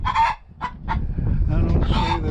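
Several chickens, including a barred rock, clucking and calling close by, a busy overlapping chatter of short bursts with occasional louder squawks.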